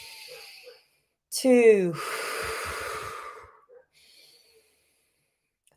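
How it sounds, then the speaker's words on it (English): A slow, deep inhale and a long exhale during a guided breathing exercise, close and clear, with a voice counting aloud in the pauses. "Take 10 to 15 deep breaths with me"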